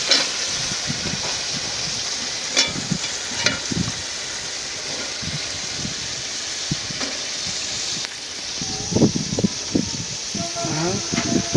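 Drumstick stalks and potatoes drop into a pan of frying spice paste, raising a steady hiss and sizzle with occasional stirring scrapes and clatters while someone talks over it.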